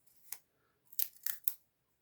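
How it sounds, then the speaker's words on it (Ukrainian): Quiet, close scissor snips cut through tape while making wick watering for violets: one snip, a pause, then three quick cuts in succession. "Ось так, скотчем обрізаю"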